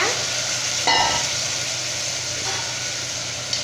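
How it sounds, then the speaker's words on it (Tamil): Kidney beans sautéing with tomato and onion in a pan for rajma kurma, giving a steady close sizzle and frying hiss throughout, with a brief stirring scrape near the start and no talk. "ராஜ்மா சேர்த்துட்டு நல்லா நம்ம வதக்கி விட்டுக்கலாம்"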